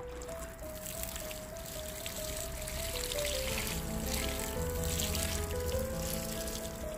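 Water poured over newly planted tomatoes in a garden to soak the soil, a steady continuous splashing and trickling that runs for the whole stretch at a fairly even level.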